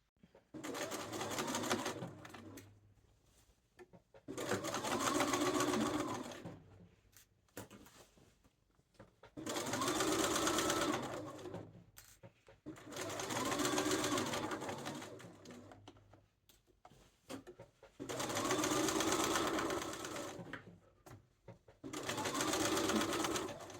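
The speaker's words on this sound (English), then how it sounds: "go on to the next step, which is to sew the sleeve onto the duster itself." A sewing machine stitches a sleeve onto a duster coat in bursts of about two seconds, each run a steady whir, separated by short quiet pauses of handling fabric.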